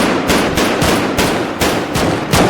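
Rapid bursts of rifle fire crack out during a military field training exercise, loud and close, a dense run of repeated shots with brief gaps between volleys and no talk over them.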